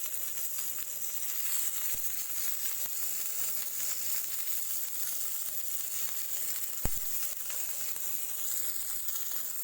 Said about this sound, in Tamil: பாருங்கள் பன்னீர் எப்படி சூப்பராக ஃப்ரை ஆகிருக்குன்னு